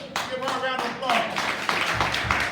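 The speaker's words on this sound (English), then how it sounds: "Give her a round of applause." A small workshop audience claps for a singer at a music demo session. The brief clapping is mixed with voices talking over it.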